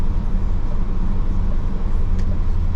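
A 2023 Renault Austral with a 1.3 mild hybrid engine, driven in sport mode, gives a steady loud engine drone with road rumble inside the cabin, the revs held high between gear changes.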